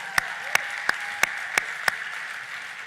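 An audience at a Netroots Nation closing keynote claps in a handful of separate, sharp claps spaced about a third of a second apart, over a steady room hum, then stops.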